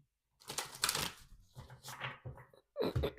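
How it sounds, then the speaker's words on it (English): A tarot deck is shuffled by hand in several quick, soft rustling bursts with brief pauses between them, close and quiet. "One more shuffle."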